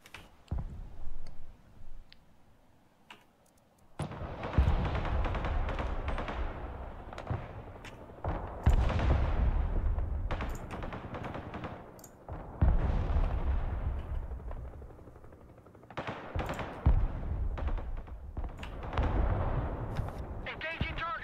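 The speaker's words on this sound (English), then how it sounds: "Engaging targets with direct fire." Artillery and direct fire from a Broken Arrow battle with American forces, heavy booms and gunfire bursts repeating over and over with brief pauses between volleys.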